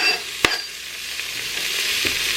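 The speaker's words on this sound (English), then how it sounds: "And then I'm going to toss those onions in here." Chopped onions sizzling and frying in an Instant Pot on saute mode, a steady hiss with a few sharp clicks and stirring knocks close up.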